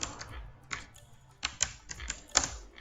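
C code typed on a computer keyboard: uneven bursts of crisp key clicks close to the mic, separated by brief pauses, with no voice.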